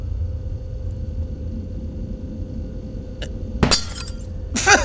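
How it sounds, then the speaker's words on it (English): Glass breaks in the video game Garten of Banban: after a quiet, steady hum, a sharp crash with shattering fragments rings out, then a brief second clink and crash, loud and close, with no talking. "It just broke the glass!"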